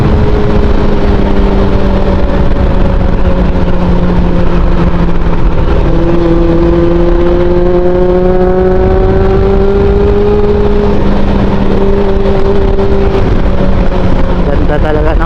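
Riding a Honda CB400 on the long Dalton Pass road in Nueva Ecija, the engine hums steadily up close, its pitch climbing and easing gently through gear and throttle changes under heavy wind noise.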